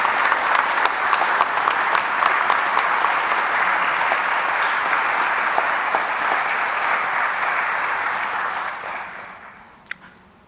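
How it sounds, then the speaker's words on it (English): Audience applause for a graduating police academy class at a college ceremony, dense sustained clapping from a large crowd that fades out toward the end. "How about a round of applause for Class 255?"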